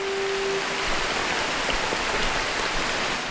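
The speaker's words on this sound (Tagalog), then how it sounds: "Lakas ng ulan." Heavy rain pours steadily in a forest in General Nakar, Quezon, a dense, even hiss drumming on surfaces with no pauses and no voices.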